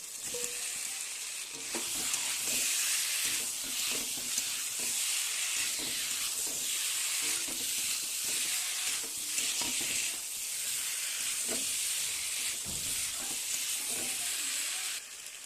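Potato pieces fry loudly in hot oil in a pan for a pointed gourd and prawn dish, giving a steady bright sizzle with intermittent scrapes and knocks of stirring, close up and without talk.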